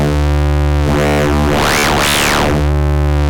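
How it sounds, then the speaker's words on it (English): Distorted synth patch, wavefolded and then pushed through extra distortion, holding a buzzy sustained tone as bright harmonics swell, peak twice in quick arcs, and settle back; loud and close with no voices. "we're going to finalize the sound by adding some more distortion"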